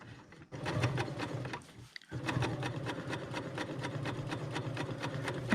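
A Bernina L890 sewing machine running a decorative chain stitch, a steady, quiet mechanical whirr with fast rhythmic needle ticking, pausing briefly near the start before carrying on evenly and close.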